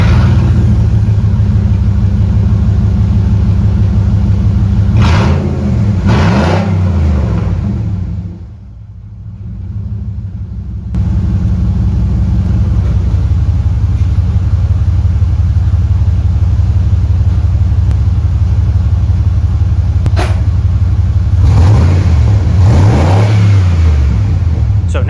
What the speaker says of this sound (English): And this is what it sounds like with the muffler cut off